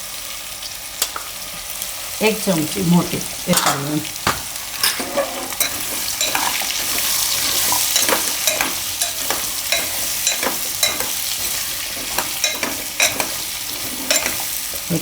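Pumpkin curry cooks in oil with turmeric, coriander-cumin powder and salt. A spoon stirs and scrapes the pan in sharp, irregular clicks over a soft, steady sizzle, while someone speaks briefly.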